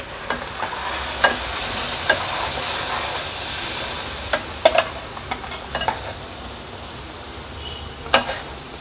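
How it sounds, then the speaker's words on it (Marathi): Malvani masala and turmeric fry in hot oil for a mackerel curry, giving a steady close sizzle broken by sharp clicks of stirring against the pan, with no talking. "हळद आणि मसाला तेलावर थोडासा परतून घ्यायचा आहे।"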